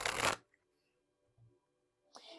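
A short burst of tarot cards being shuffled during a card reading, loud and close at the start, then near silence with a faint soft rustle before a second brief riffle at the end.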